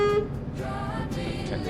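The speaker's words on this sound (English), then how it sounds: "Honk honk." A truck horn sounds in Euro Truck Simulator 2, a short tonal honk at the start followed by steady engine drone and faint game noise, with no talk.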